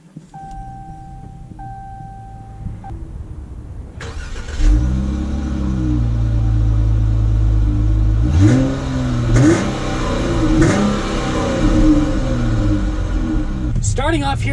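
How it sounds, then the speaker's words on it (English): A 2019 Chrysler 300 AWD car drives along, its engine rumbling and rising in pitch as it accelerates through the gears, with a voice talking over the steady road noise. "let's take this 2019 Chrysler 300 out to see how it drives"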